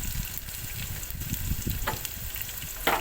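Cut okra fries in hot oil for a crispy kurkure-style fry, with a dense, even sizzle and crackle plus a few brief stirring clatters, close and moderately loud with no voices.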